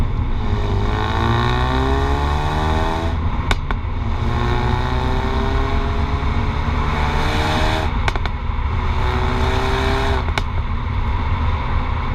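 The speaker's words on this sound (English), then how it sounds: "The dual exhaust sounds great." A 2017 Ford Focus RS engine revs hard through a dual exhaust, rising and falling in pitch with a couple of sharp crackles, loud and close.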